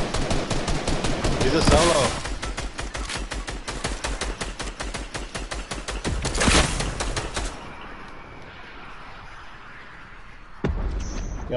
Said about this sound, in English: Keep firing at him.